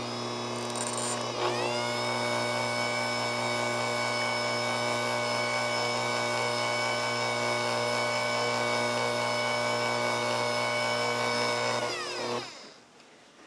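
An electric mixer whirring steadily through orange cake batter before the flour goes in, a continuous high motor whine that holds constant for about twelve seconds and then cuts off.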